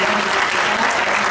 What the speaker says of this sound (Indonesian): Boleh bagi satu tepukan buat dia,